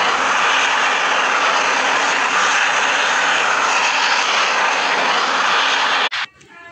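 Aircraft engine droning loud and steady while flying in the Rope Hero Vice Town video game, a continuous close roar that cuts off abruptly near the end.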